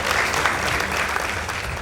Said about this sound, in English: Please give them a powerful round of applause.